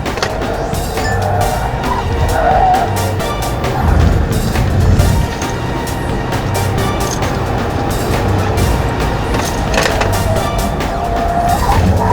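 A Kia Mohave 3.0 diesel SUV driven hard on a race circuit, with a steady loud engine and road roar and occasional tire squeal, heard continuously from inside the vehicle without talk.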